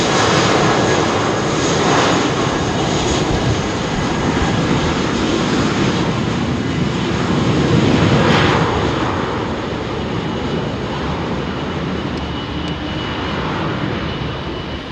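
Jet airliner engines roaring loudly and continuously as a large, high-aspect-ratio-winged airliner departs from runway 27R at London Heathrow, close up, with the broadband roar swelling and easing slightly over its full length.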